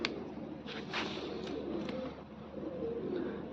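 Soft, low coos of pet pigeons repeat steadily over a continuous background murmur, with a few brief higher chirps breaking through.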